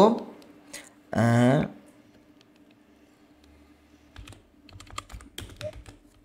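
Keys clack on a computer keyboard as a short label is typed into a design program, a brief burst of close, light clicks following a few moments of a person speaking.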